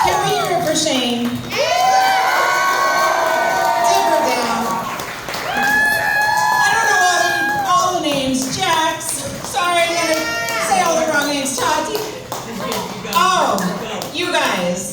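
An audience at a Red Hill water contamination survivors event cheers and claps. Overlapping shouts and whoops rise and fall over steady applause for the full stretch.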